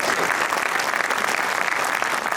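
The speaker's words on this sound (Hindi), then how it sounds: "इससे बड़ी स्वाभाविक सी ताली आ रही है" A poetry festival audience breaks into brisk, dense applause, a close and steady wash of clapping hands with no break throughout.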